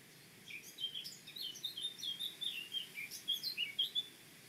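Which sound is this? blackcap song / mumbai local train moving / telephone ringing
blackcap song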